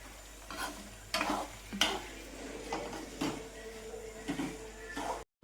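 Tempering spices for tamarind rice sizzle in a pan while a spoon stirs and scrapes against metal several times, quiet and close, with no talking.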